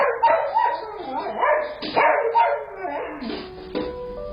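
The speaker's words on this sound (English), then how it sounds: "the family dog just goes nuts" A family dog barks frantically in a burst of loud, close yips and barks, breaking into whimpers near the end.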